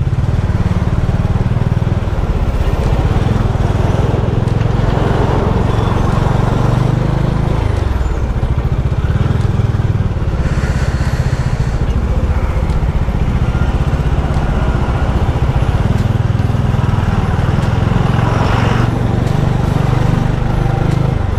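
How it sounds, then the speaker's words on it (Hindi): Steady engine drone and wind rush from a motorcycle ride through heavy traffic on Ghodbunder Road out of Mumbai, with a Dominar 400 and Ninja 300 riding along, loud and continuous with passing vehicle noise throughout. "कितना भी जल्दी निकलो ट्रैफिक मिलेगा ही।"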